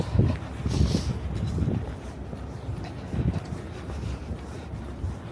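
Steady wind rumbles and buffets against the microphone in low gusts on a spring street walk in New York City, rising and falling for several seconds with no voices.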